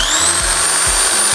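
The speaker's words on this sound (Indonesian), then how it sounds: "Ini ada bor. Nah, bor ini saya tancapkan dulu," An electric drill used as a load in a capacitor power-saving test, running at maximum speed with a loud, steady high whine and motor hum, close and continuous.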